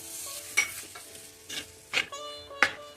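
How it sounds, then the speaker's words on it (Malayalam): Chopped tomato is stirred into onions frying in a pan for fish curry, with a steady sizzle and a few scraping strokes of a spoon against the pan, close and fairly quiet, with no voices. "നമുക്ക് ടൊമാറ്റോ ചേർത്ത് കൊടുക്കാം."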